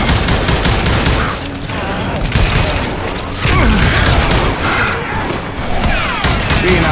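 Dense, loud gunfire from Call of Juarez Gunslinger, a Wild West shooter, crackles nonstop as rapid overlapping shots and impacts rattle through a fight at an outlaw camp near Parachute, Colorado.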